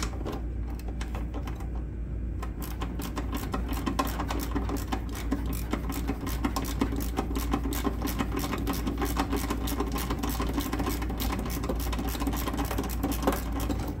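Bolt being tightened on a Craftsman DLS 3500 riding lawn mower, a steady run of close, rapid ratcheting clicks over a low mechanical drone, with no talking.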